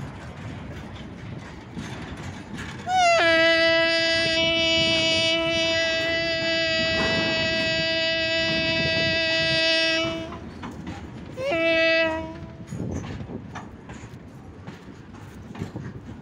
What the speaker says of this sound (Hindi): साथ में पवन एक्सप्रेस और माल डिब्बे के बीच में जाती हुई ट्रेन